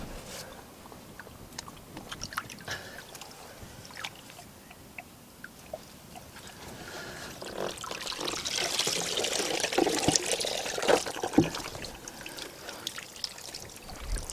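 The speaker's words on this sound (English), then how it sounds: "the next thing to do is to get the pump out of the water" Water trickles and drips as a pond pump is lifted out of a garden pond, starting quietly and then growing into a fuller, splashing stream in the second half.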